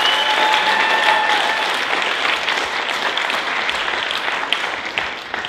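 Audience applause fills a film festival Q&A at the East End Film Festival, dense and steady clapping from a crowd that holds loud throughout and eases slightly toward the end, with a faint tone briefly underneath.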